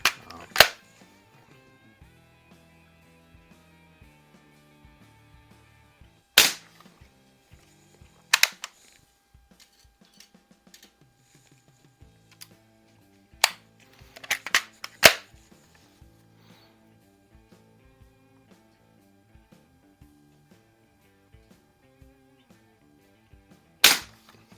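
A 1986 Daisy model 840 single-stroke pneumatic BB gun fires several sharp, close shots, spaced irregularly over quiet stretches with faint background noise between them.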